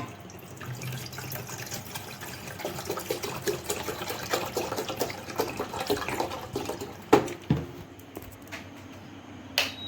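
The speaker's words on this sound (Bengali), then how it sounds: "চলে এলাম রান্নাঘরে একটু জল গরম করে নিই নিজের জন্য" Water poured in a home kitchen to be heated, a soft splashing trickle with scattered clinks and taps of vessels, fairly close and moderately quiet, with a few sharper knocks toward the end.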